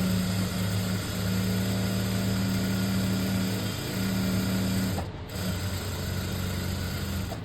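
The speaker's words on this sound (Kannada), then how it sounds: "ನಾನು ಒಂದು ಕಾಲು ಇಂಚ್ಗೆ ಈ ಥರ ಸ್ಟಿಚಿಂಗನ್ನು ಮಾಡ್ಕೊಳ್ಳಿ" An electric sewing machine runs steadily, stitching piping fabric a quarter inch from the edge, with a constant motor hum and rapid needle chatter and a brief pause near the end; no voices.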